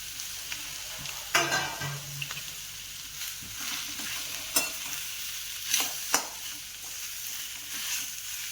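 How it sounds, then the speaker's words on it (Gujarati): Potato and pea samosa filling is stirred in a hot pan, a steady close sizzle of frying broken by a few scraping strokes and clinks of the spoon. "હવે આપણે બે બટાકા અને વટાણા મિક્સ કર્યા હતા એ અંદર નાખીશું."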